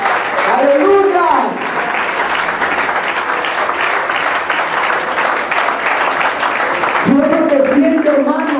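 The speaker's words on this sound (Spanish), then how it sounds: "Denle un aplauso grande, un aplauso fuerte a ese Dios omnipotente." A church congregation claps and cheers loudly in praise at a worship service, sustained dense applause under and between a preacher's amplified voice, which rises again near the end.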